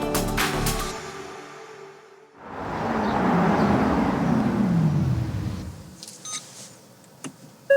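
A Genesis GV60 electric car accelerates in boost mode, a loud sustained whoosh of motor whine and road roar that swells and holds for several seconds before cutting off, with faint clicks and beeps afterward.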